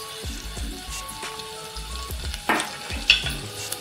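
Garlic sizzles in hot oil in a pan with a steady crackle, broken by a few louder pops and spatters near the end, along with low thumps from occasional handling of the pan.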